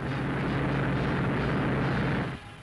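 A military transport plane flies during mass parachute jump training, a loud continuous broadband engine and wind roar that cuts off sharply near the end, leaving a quieter residual hum.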